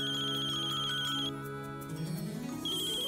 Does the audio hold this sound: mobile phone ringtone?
yes